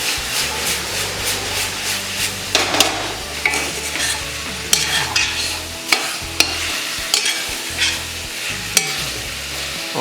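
Chilli chicken with soy sauce being stirred in a frying pan: a spoon scrapes and knocks against the pan in irregular strokes over a continuous close sizzle, with a few sharp clinks.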